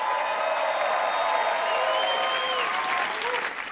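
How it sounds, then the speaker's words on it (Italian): A television studio audience breaks into loud, sustained applause and cheering for a guest, a dense wash of clapping that holds steady and tapers slightly at the end. "Un applauso per il nostro ospite Brendan Schaub"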